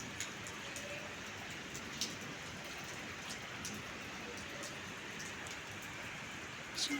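Heavy rain falls at night, a steady, dense hiss of drops hitting surfaces that never breaks, with a few brief louder spatters.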